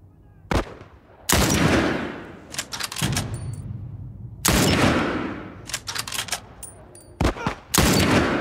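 Loud bursts of automatic gunfire in the video game The Last of Us, several sharp rapid volleys in separate clusters with echoing tails and short pauses between them.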